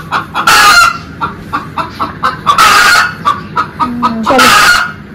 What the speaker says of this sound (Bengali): মুরগিটা মনে আজকে ডিম দেবে।